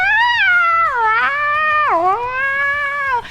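A house cat yowls in one long, drawn-out wailing meow that bends down in pitch, loud and close, with no talk over it.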